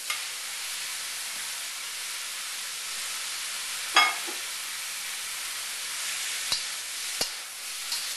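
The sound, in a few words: stir-frying vegetables and minced shrimp in hot oil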